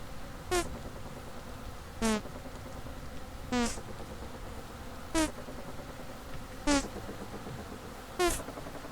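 Bees buzzing around a skep in the Vintage Story video game: a faint, steady hum with six short, rising buzzing sweeps spaced about a second and a half apart, near and fairly quiet.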